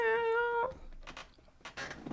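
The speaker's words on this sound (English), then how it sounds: "We're waiting for the meow." A cat gives a single short, tonal meow close by, followed by a stretch of quieter background noise and scattered rustles.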